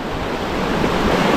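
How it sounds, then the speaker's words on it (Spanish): A river in Uruguay with small waterfalls, carrying plenty of water, gives a steady, loud rushing wash of flowing water close by, with no voices over it. "Y aquí tenemos el río. ¡Wow! ¡Cascadines uruguayas!"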